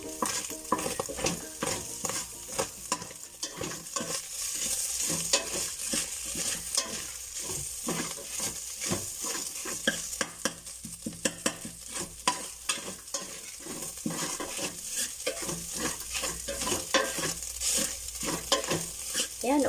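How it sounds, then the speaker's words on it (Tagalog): Leftover fish fries in a pan while a utensil stirs it, giving a busy crackling sizzle broken by frequent scraping and tapping against the pan, with no voices. "Haluin ko na."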